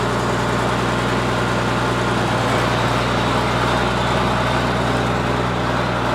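An engine-swapped Ford 8700 tractor drives out of a shed with a loud, steady engine rumble that holds unbroken throughout, close by and with no voices.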